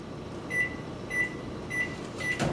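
A microwave oven runs at 100% power cooking a mug brownie, a steady low hum with repeated short beeps at regular intervals and a click near the end.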